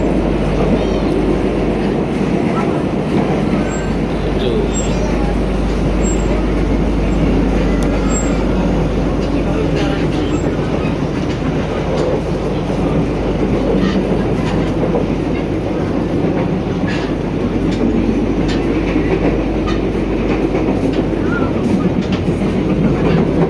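Interior of a BIAS passenger train running from Solo to Sragen: a steady, loud low rumble of wheels and carriage with faint clicks and rattles throughout, continuous and near.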